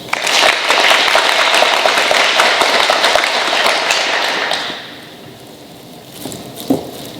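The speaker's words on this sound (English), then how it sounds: "Let's have a nice round of applause" At an awards day ceremony, a crowd claps in a steady round of applause that fills the room, then fades out after several seconds, leaving a quiet room with a soft thump.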